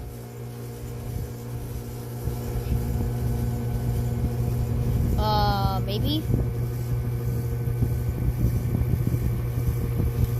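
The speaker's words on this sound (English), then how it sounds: "Oh, there goes the fan motor," A Rheem Classic central air conditioner, unit F1C from 2017, has its fan motor spin up and settle into a loud steady hum and whoosh, with a brief rising whine as it starts and a voice over it.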